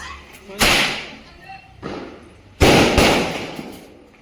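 Firecrackers go off during a Diwali dawn celebration: a sharp loud bang, a softer thud, then another loud burst with a rumbling tail, all close by against faint background voices.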